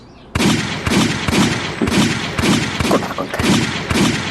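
Firing-range gunfire in a drama, a rapid series of loud close shots in a steady rhythm of about two per second, with brief speech at the start.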